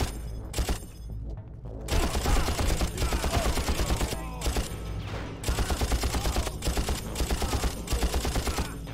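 Dense, loud gunfire from the first Far Cry game rattles almost without pause, rapid automatic bursts layered with heavier thumps and brief gaps, near and overwhelming.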